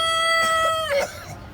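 A rooster on a farm gives a single close, loud crow lasting about a second, with a rough trailing note at the end and faint clucking afterward.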